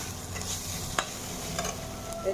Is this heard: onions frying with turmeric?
yes